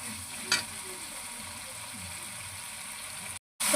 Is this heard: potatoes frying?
yes